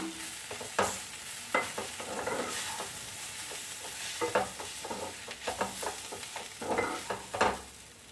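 Spice powders and chicken masala sautéed in hot oil for a chicken curry, a steady close sizzle broken by repeated scraping strokes of a spoon stirring the pan, with no voices.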